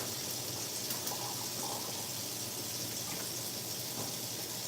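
Water gushes steadily from a tap into a pot, a loud continuous splashing rush with no breaks.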